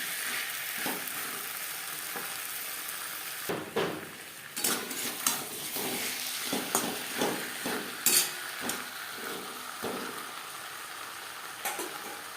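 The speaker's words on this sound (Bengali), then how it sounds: "মশলার সাথে আলু বেশ ভালো করে মিক্স করে দেবো" Long-cut peeled potatoes stirred with spices in a pan for a tilapia fish curry: a steady frying sizzle with repeated sharp clinks and scrapes of a spoon against the pan, irregular and close.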